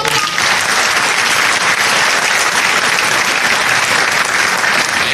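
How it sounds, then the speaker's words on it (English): Audience applause at a high school scholarship awards program in Martinsville, a steady, dense roar of many hands clapping together, loud and close, holding evenly throughout with no voices over it. "Can we give them a round of applause?"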